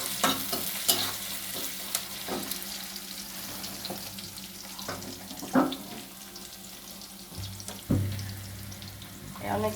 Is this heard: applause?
no